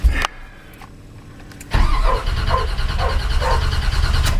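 Flooded K10 truck engine on a cold start, with a brief crank, a pause, then a long stretch of repeated rhythmic cranking as the starter turns over without catching, loud and close.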